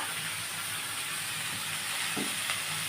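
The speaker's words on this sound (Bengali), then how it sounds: "ভেজিটেবলসগুলো আমি ভাজছি" Vegetables sizzling steadily in a hot pan, a close, continuous frying hiss with a faint stir near the end.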